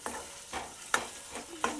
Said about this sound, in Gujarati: આ રીતને આપણે મિક્સ કરી વાળવાનું। હવે ટમેટાને અને ડુંગળીને સરસ મજાના સડવા દેવાના છે